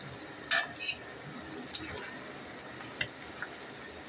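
Meat curry, oily and fatty, reheating in a pan: a low steady sizzle with a few sharp clinks of utensils against the pan, close and moderately quiet.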